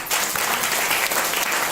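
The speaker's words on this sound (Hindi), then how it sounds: "शायद मेरे जिंदा खुदा के लिए तालियां होनी चाहिए" Congregation at a church service breaks into loud, dense applause, many hands clapping together in a full, close burst that continues throughout the short moment.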